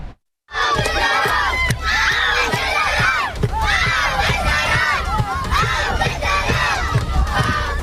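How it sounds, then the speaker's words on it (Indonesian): Palestinian schoolchildren shout together beside a barbed-wire fence put up by Israeli settlers in Al-Khair village south of Hebron, a dense, continuous crowd of loud young voices calling out nearby with no break. "Anak-anak Palestina terlihat berteriak di samping pagar kawat berduri yang didirikan oleh pemukim Israel di desa Al-Khair di selatan Hebron hari Minggu."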